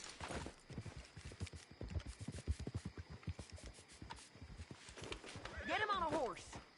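Horse hooves clip-clopping in the Red Dead Redemption video game, a run of close, rhythmic clops under game speech, ending with a horse whinny.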